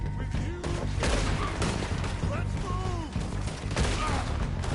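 Gunfire from weapons in the game Red Dead Redemption 2, with repeated shots and booms running through the whole stretch over a dense game soundscape, with some voice-like sounds mixed in.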